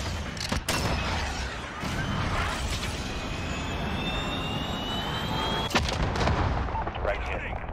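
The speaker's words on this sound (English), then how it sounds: "Missile away." Missile launch in the shooter game Call of Duty Modern Warfare: a loud roaring blast with a rushing jet-like streak that sustains for several seconds amid sharp gunfire cracks, dense and close in a busy multiplayer match.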